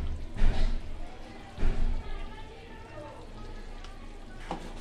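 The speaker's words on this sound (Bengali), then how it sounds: "এবার এই মশলাগুলোকে আমি ভালো করে কষিয়ে নেব।" Cumin, chili and turmeric powders fry in a pan for green banana kofta curry, with a soft steady sizzle and a few louder stirring scrapes.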